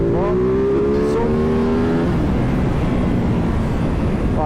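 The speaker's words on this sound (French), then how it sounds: "Ah, ce petit moteur bicylindre." A Ducati Multistrada 950 motorcycle with a twin-cylinder engine gives a loud, close roar. Its tone climbs briefly at first, then settles into a dense, steady growl that holds without pause.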